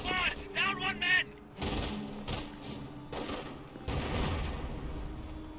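Gunfire in a Company of Heroes battle, repeated bursts of machine-gun and rifle shots with rumbling impacts, moderately loud, mixed with in-game voices.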